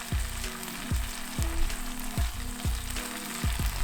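Grated garlic and ginger frying for a shrimp and chicken curry, a loud continuous sizzle broken by regular rhythmic stirring knocks against the pan, with no voices.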